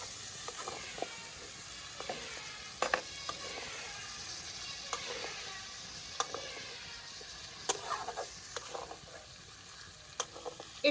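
Chicken coated in salt, turmeric and lemon is sautéed with spices in a pan, giving a faint, steady sizzle with scattered stirring clicks and scrapes, no voices.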